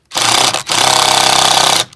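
Power drill drives a self-drilling screw into wood on a straw bale house build in the desert: two loud, close, rattling bursts of the motor, a brief pause between them, then a sudden stop.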